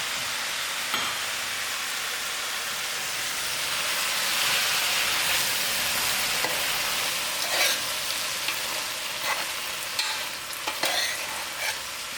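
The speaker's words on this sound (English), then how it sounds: "decrease my heat and allow the tomatoes to cook within and let the flavors seep in" Tomatoes and potatoes cook in a pan for a moong dhal curry, giving a steady, close frying sizzle over the whole stretch, with a few sharp clicks from stirring and no talk.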